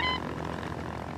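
A propeller airplane in an animated children's cartoon drones steadily as it flies, a brief continuous engine hum lasting just over a second.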